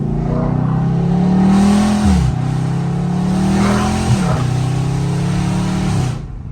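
A nearby Dodge Charger Scat Pack engine in track mode drones and revs, its pitch climbing and then dropping twice in steady waves, loud and with no talking.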